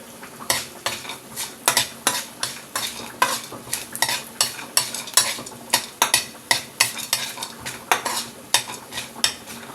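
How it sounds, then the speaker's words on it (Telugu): Peanuts, chana dal, urad dal, mustard seeds and cumin fry in hot oil in a pan, with a steady, rhythmic series of sharp spoon scrapes and clinks over a soft sizzle, close and clear. "వేరుశనగ గుళ్ళు వేస్తున్నాను. అలాగే పచ్చిశనగపప్పు, మినప్పప్పు, ఆవాలు, జీలకర్ర వీటన్నిటిని వేయించుకుందాం."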